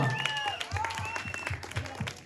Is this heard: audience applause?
yes